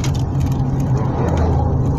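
A car accelerates uphill on a mountain road to Patong beach, its engine a steady loud low rumble recorded from inside the cabin, heard alone for a couple of seconds.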